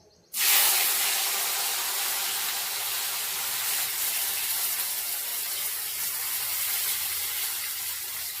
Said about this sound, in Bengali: গ্যাসটাকে মিডিয়ামে করে হালকা লাল লাল করে ভাজবো